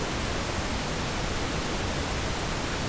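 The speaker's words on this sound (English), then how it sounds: "And we can also go to pink noise" Steady, dense pink noise hisses loud and even throughout, a constant broadband rush without breaks or other sounds.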